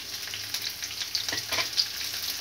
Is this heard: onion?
yes